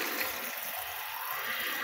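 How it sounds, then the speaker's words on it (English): Water runs steadily into a bucket being filled, a constant rushing, gurgling flow at moderate volume with no voices. "Fill the water bucket up."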